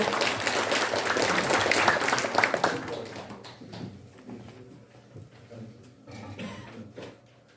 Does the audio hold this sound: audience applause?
yes